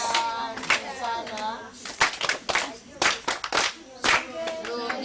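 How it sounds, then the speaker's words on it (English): Children clapping together at a scouts camp, a few bursts of applause mixed with talk from adults and kids, close and moderately loud. "Can you clap for those people who have given us answers?"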